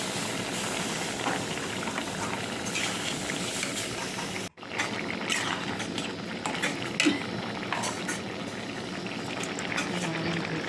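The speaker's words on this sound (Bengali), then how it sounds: "ভালোই ফুটছে আর একটু ঝোল ফুটাবে" Curry gravy boiling in a pot makes a dense, continuous bubbling hiss that cuts out for a moment midway and then resumes, with faint metallic clinks and no speech.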